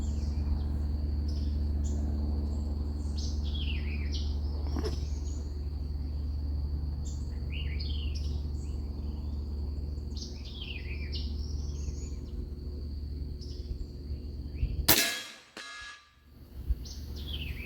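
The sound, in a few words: Hatsan Bullpup .357 air rifle firing JSB pellets at target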